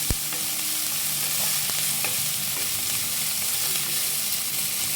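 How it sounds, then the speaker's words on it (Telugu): Onions frying in oil in a pan until golden brown, a steady broadband sizzle that holds evenly throughout, close and continuous, with a faint clink near the start. "ఇది బ్రౌన్ గోల్డెన్ బ్రౌన్ కలర్ వచ్చే వరకు ఉల్లిపాయలు వేయించేసుకొని"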